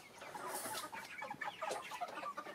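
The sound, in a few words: chickens clucking, roosters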